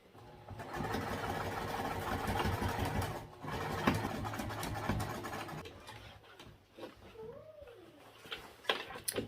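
A sewing machine stitches the side of a fabric bag with a rectangle ring slipped inside, a steady whirring run that stops partway, followed by quieter handling noises and faint movement, close and soft.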